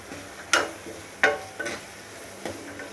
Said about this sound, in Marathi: ते चांगले फ्राय होऊ देणार आहोत।